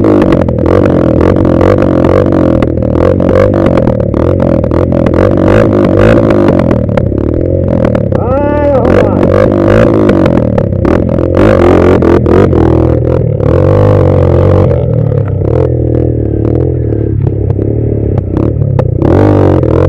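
A motorcycle rides a rough mountain trail at Serra do Cajueiro, São Mamede, its engine droning loud and close throughout with clattering and occasional revving.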